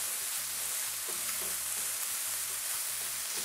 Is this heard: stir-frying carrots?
yes